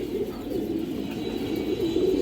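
A female pigeon and other birds coo in a steady, rolling low drone, close and moderately loud, with no voices present.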